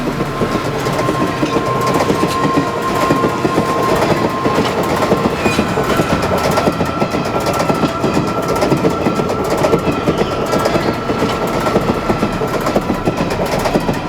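A moving train rattles steadily on the rails for the whole stretch, with loud, continuous wheel clatter and rumbling carriages close by and no voices.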